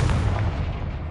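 Fire spell explosion from the wizarding game Hogwarts Legacy, a loud booming blast with a rumbling low tail that fades over about a second.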